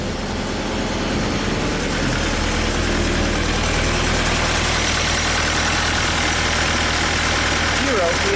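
Perkins diesel engine on a Genie lift running with a steady, loud, low rumbling drone that persists throughout without pause.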